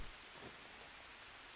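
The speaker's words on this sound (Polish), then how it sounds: "Wiem, pada deszcz. Deszcz zmywa z nas brud. Więc stoimy w deszczu." Steady rain falls in the jungle survival game Green Hell, a dense, even hiss of drops with no breaks and no voices.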